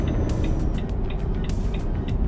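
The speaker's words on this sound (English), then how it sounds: "The sound you hear is the lane keep assist" The lane keep assist alert in Euro Truck Simulator 2 plays as a quick series of repeated short beeps over a steady, low truck engine rumble.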